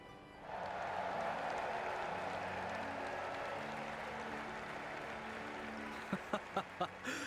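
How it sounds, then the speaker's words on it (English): Video game applause in Trails in the Sky for tournament victors swells in quickly and holds as a dense wash of clapping, fading slightly, then a few sharp distinct claps or hits near the end. "let us shower these victors with thunderous applause"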